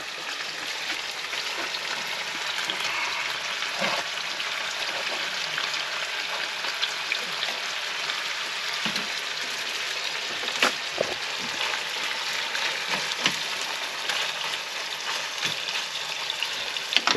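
Onion frying in a pan in a camper van kitchen makes a dense, even hiss like light rain, loud and steady throughout, with a few faint clicks and no talk.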